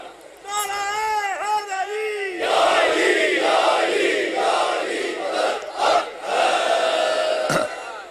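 At a Shia religious sermon, one voice calls out a drawn, melodic phrase, and then a large audience roars back slogans together in loud, rhythmic, surging waves.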